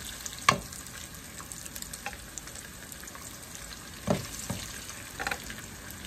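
Onions frying in a pan, a steady low sizzle running throughout with a few louder spatters and scrapes of stirring near the pan.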